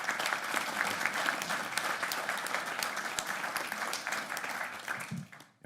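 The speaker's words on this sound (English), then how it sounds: "let's give Ernie a round of applause." An audience at a board of regents meeting gives a round of applause, a dense steady clatter of clapping hands that carries on for several seconds before tapering off at the end.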